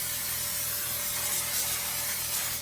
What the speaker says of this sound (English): I'm gonna grab my cooking spray.